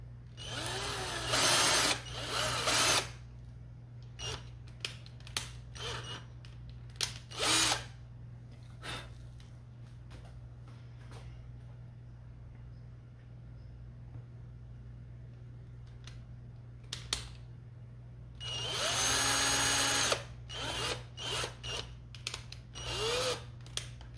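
A power drill pre-drills holes in a toilet mold, whirring in several short close bursts with longer loud runs near the start and end, separated by quiet pauses with a steady background hum.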